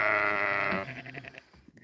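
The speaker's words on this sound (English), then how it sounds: "The lambs haven't figured it out." A lamb bleats loudly and close by on a homestead, one drawn-out wavering call followed by quieter farmyard noises.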